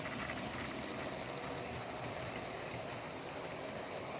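A model Duke of Gloucester steam locomotive runs steadily along its track at a nice pace, giving a continuous mechanical whirring and buzzing hum with fine rapid chatter, even in level throughout with no voices.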